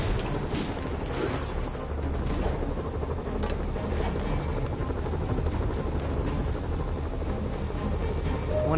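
Helicopters hover over the city in the Spider-Man video game, a steady close rotor thump and whine that continues throughout, with scattered sharp bangs mixed in.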